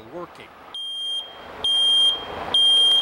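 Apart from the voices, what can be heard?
ionization smoke detector alarm beeping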